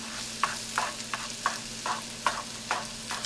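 Spam, potatoes and eggs are stirred in a frying pan, a soft sizzle under a steady rhythm of about eight spatula scrapes, each pushing from the edges toward the middle, no voices.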